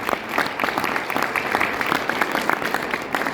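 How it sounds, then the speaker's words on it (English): Moderately loud round of applause from a meeting audience, a steady patter of many hands clapping throughout, with no voices over it. "Let's give Celeste a big round of applause."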